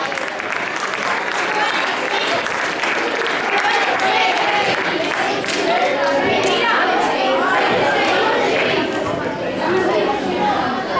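A school audience of primary pupils applauds the debate participants, sustained clapping mixed with children's chatter and excited voices.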